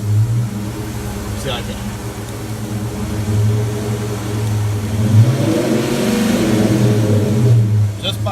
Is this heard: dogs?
no